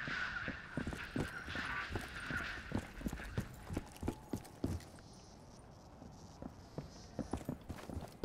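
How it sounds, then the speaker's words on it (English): Heavy boss footsteps in a Call of Duty custom zombies game, a series of distinct thudding steps in uneven rhythm, fairly close but quiet, with a brief pause midway before resuming. "All you can hear are those quiet, quiet footsteps."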